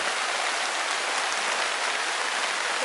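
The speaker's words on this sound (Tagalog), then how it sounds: "Mukhang hindi natitigil tong ulan." Heavy rain pours down at a construction site, a loud unbroken hiss of drops hitting surfaces with no talk over it.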